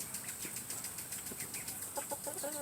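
Meat chickens clucking nearby over a steady background hiss, a few soft, low clucks and murmurs scattered through the short stretch.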